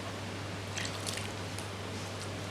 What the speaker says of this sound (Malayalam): ഇനി നമുക്ക് കുറേശ്ശെ വെള്ളം ചേർത്ത് കുഴച്ചെടുക്കാം.